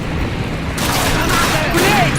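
Rapid gunfire in the original Call of Duty, a dense burst of rifle and machine-gun shots with battle noise, loud and close, while someone shouts over it.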